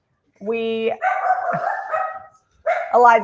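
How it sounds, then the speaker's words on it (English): A dog gives a couple of sharp, harmonic barks close by, with a stretch of tonal voice-like noise between them and a pause in the middle. "The dogs are barking."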